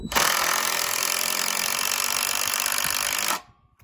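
A DeWalt impact driver on a 2 amp hour XR battery drives a screw into wood in one continuous loud, rattling burst of about three seconds, then stops abruptly.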